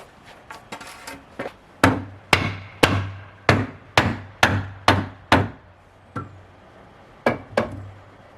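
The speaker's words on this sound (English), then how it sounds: "take a pair of pliers, just pull them through from this side" Pliers pulling nails through wooden brick mold trim on a door jamb, giving a run of about a dozen sharp, close cracks and squeaks in an irregular rhythm, with no talking.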